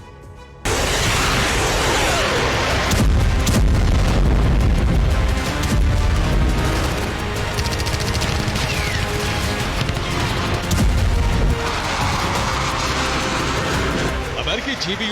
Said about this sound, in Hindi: लगातार गोलीबारी होती रही।